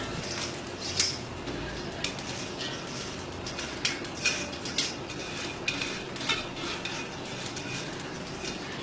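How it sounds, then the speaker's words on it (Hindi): Cooked rice being tipped into a large cooking pot, with a series of light metallic clinks and scrapes of a utensil against the pot over a steady background hiss, close and moderately quiet. "एक बड़ी पतीली के अंदर सबसे पहले हम चावल लेंगे"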